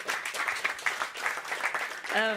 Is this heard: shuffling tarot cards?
no